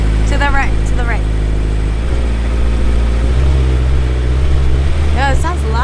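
A Subaru STI rolls through a car wash, its engine rumbling steadily beneath the constant wash noise while people talk over it.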